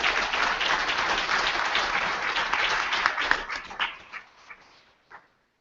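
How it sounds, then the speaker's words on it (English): Sustained audience applause fills a symposium hall for a panel of four, dense and steady for several seconds before thinning into a few scattered claps and fading out. "can we have another round of applause for all four of our panelists"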